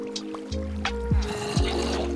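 Water in the Minecraft video game being scooped back into a bucket, a couple of quick liquid sloshing and filling sounds over a steady game background, close and moderately loud.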